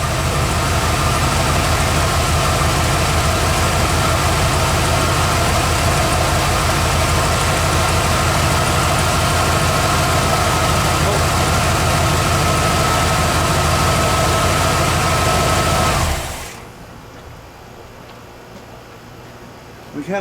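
Bullnose Ford F150 junkyard truck engine, just started after an Edelbrock fuel pump install, idling with a loud steady low rumble close by for about sixteen seconds before cutting off abruptly.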